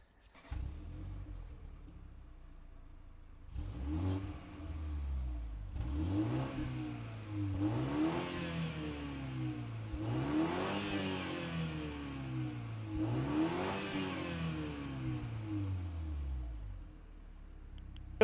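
A BMW 218i Coupe, the weakest rear-wheel-drive model, accelerating hard. The engine revs up in a series of rising pulls, with tone sweeps climbing and dropping as gears change. It is loud and steady, with no voices.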